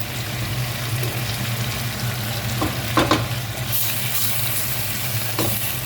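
Ginger garlic paste sizzling and frying in a pan while being stirred, a steady close hiss with scraping stir strokes and a few brighter crackles, no talk.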